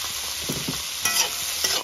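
Local chicken meat with salt frying in a pan, a steady bright sizzle with a few scraping stirs near the mic, no talking.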